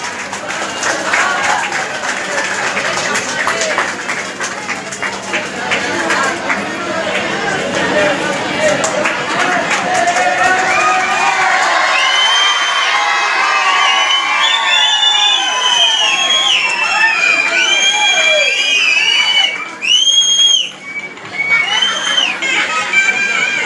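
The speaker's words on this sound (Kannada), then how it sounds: "ನಾವು ಅವ್ರಿಗೊಂದು ಜೋರಾದ ಚಪ್ಪಾಳೆಯನ್ನ ಕೊಡಲೇಬೇಕಾಗಿದೆ." A school audience breaks into loud applause and cheering for eight prize-winning children at a school event, a dense wash of clapping with shouts and children's voices that thins toward the end.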